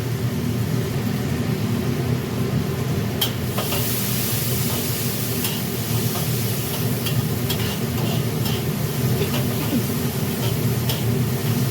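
Onions frying in a pan for a stir-fried bitter gourd and dried shrimp dish, with a steady, close sizzle and crackle throughout and occasional light utensil taps and scrapes, and no voices.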